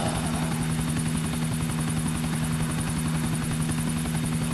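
Helicopter in Grand Theft Auto IV: a constant, loud rotor drone with a strong low hum and fast chopping pulses, holding unchanged from start to finish with no talk.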